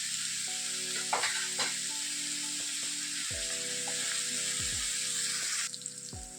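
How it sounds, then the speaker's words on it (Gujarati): Onion and green chillies fry in a pan with a steady, close sizzle, broken by a few short stirring scrapes and clinks, with no one speaking. "એક ડુંગળી, લીલા મરચાં એને પહેલાં શેકી લઈએ આપણે."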